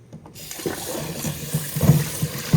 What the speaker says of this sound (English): now I'm going to finish washing these vegetables